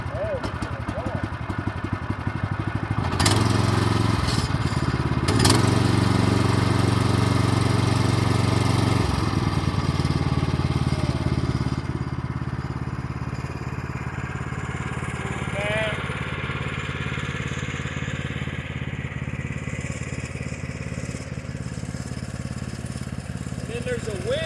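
A small gas engine on a Woodland Mills HM122 sawmill catches and runs, a loud close chugging that settles into a steady, slightly uneven idle, with a voice talking over it.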